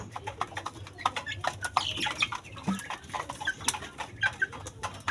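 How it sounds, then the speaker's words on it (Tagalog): A young rooster (stag) clucking among other farm birds in the open, short irregular calls scattered over soft rustling and background noise, fairly close and moderate in level. "Itong manok mga tol."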